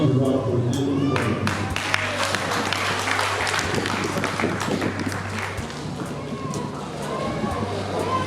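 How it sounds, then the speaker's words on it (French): An audience applauds Senator Oumou Badian at a gathering on baby visits and care for pregnant women: a steady patter of many hands clapping together for several seconds over a low hum, with voices mixed in. "pour qui je vous demanderai de bien vouloir applaudir une fois"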